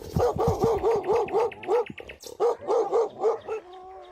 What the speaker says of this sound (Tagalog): 3 aso na galit habang tinatahulan kami